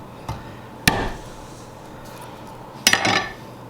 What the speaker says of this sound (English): Now we got our garlic. Smash it.